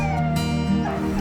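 Dogs at an animal shelter howl and whimper in drawn-out, wavering tones, close and fairly loud, with several overlapping voices and no talking.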